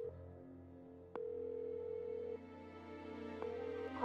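A telephone rings in the video game Chicken Police, a steady electronic tone repeating in long bursts over a low background hum, with no talk.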